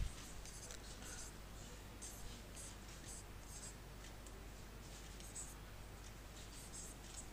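Chalk or a marker scratches faintly across a board in short strokes during a class 10 maths lesson, quiet and close, with a low steady hum underneath.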